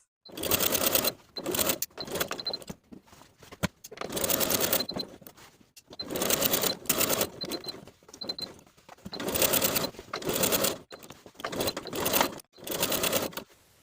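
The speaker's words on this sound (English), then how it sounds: "I'm going to edge stitch along the side and bottom edges" A sewing machine edge stitches along the side and bottom edges of stretch denim jeans, running in repeated bursts of steady stitching with short pauses between them, close and fairly loud.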